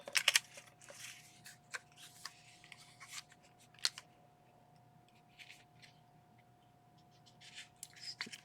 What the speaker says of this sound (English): I'm going to use my long scissors.